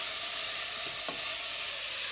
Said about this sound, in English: Just stir around.